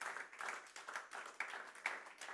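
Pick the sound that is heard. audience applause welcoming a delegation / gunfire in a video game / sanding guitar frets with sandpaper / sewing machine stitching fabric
audience applause welcoming a delegation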